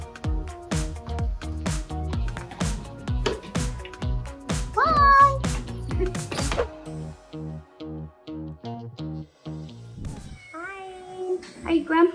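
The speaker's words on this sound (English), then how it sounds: "Here's our two kitties from the shelter." A shelter cat meows several times in short, high cries over a backdrop of loud, rhythmic music.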